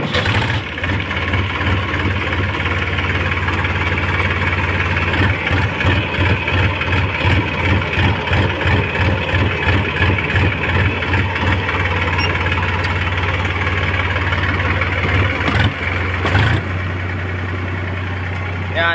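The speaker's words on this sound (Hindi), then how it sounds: "हम ट्रैक्टर को स्टार्ट कर लेते हैं सबसे पहले" A Massey Ferguson tractor's diesel engine running steadily at idle, with a rapid rhythmic chugging throughout, loud and close, pitch shifting slightly near the end.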